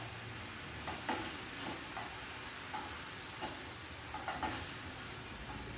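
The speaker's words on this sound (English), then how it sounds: "apple sauce is doing a nice job of deglazing this pan" Cabbage sizzling in a pan as apple sauce deglazes it, a continuous soft frying hiss with intermittent spoon scrapes and stirring knocks, close and fairly quiet with no talking.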